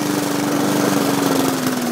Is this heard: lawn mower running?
yes